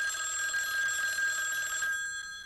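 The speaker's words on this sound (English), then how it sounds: "The phone." A telephone bell rings loudly and close with a continuous bright trill that stops abruptly near the end, leaving a faint room tone behind.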